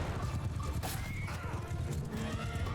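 Horses in the Mount & Blade II: Bannerlord game, a whinny rising over a busy battle bed of galloping hoof clatter and clanking, dense and fairly close, with no voices.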